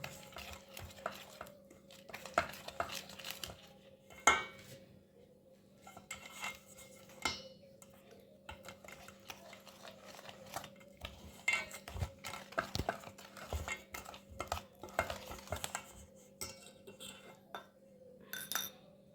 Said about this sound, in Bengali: এবার দিচ্ছি সুজিটাও একই মাপ, অল্প অল্প করে মেশাতে হবে।